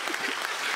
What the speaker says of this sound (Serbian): Aplauz, Aleksandra.